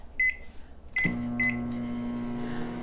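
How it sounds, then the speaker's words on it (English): A microwave oven is set and started: three short electronic keypad beeps, then a low steady hum as it begins running, heard close and alone. "Then I'm going to just put it into the microwave oven, and it'll take about 2 to 3 minutes for that to boil"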